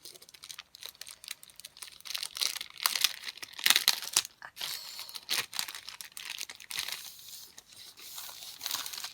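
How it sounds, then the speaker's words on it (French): Crinkly plastic packaging rustles and tears as a small diamond painting canvas is unwrapped, with bursts of close crumpling and crackling spread across the whole stretch and no talking. "allons-y pour ouvrir la petite toile"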